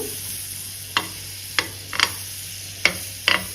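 Butter melting on a hot tawa over very low gas as chapati sandwiches are prepared, a soft, continuous sizzle punctuated by five or six sharp scraping strokes at uneven intervals, close by.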